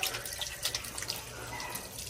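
Water pours and splashes in a steady, continuous stream, close and fairly loud, like a tap running into a sink, with no voices.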